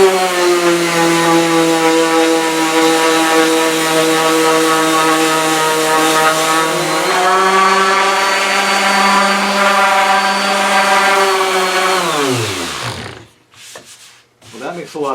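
A power sander on a copper beech wooden tray gives a loud, steady, whining hum with a grinding scrape beneath. It holds for about twelve seconds, then winds down in pitch as the tool stops.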